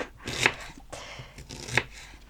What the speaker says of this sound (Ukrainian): Можна порізати і якось дрібніше, ніж я це роблю